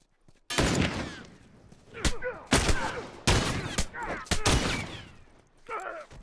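Rifle gunfire in the video game The Last of Us Remastered cracks out in several sharp, loud bursts separated by short pauses, with brief fragments of game voices between shots.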